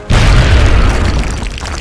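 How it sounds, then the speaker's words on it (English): A single heavy grenade blast in the turn-based strategy game XCOM, a sudden loud boom with deep rumble that decays over more than a second. "Throwing grenade."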